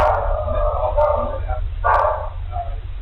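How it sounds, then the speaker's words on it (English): A dog barks indoors in a house during a city blackout: a few short, mid-loud yaps over steady low hum, with talking around them. "What, a dog barks?"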